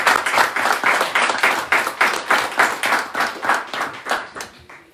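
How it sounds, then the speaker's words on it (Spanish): Audience applause at a press conference for the Titanes 2022 event, with regular, fairly close hand claps forming a rhythmic clapping pattern for about five seconds before fading at the end. "para ellos dos les pido un fuerte aplauso"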